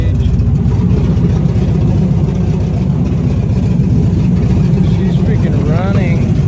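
A V8 engine swapped into a Chevy S10 pickup runs steadily just after its first start, a loud, continuous low rumble close by with a faint voice near the end.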